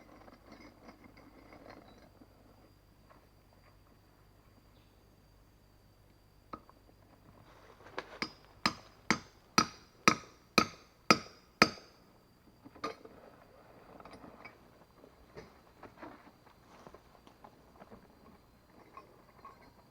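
Hardened steel climbing spikes being hammered into a tree, heard as a run of about eight sharp, evenly spaced metallic strikes, followed by softer, scattered knocks over a quiet outdoor background.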